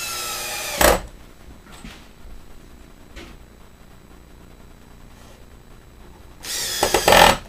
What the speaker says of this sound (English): I'm going to put a couple of screws here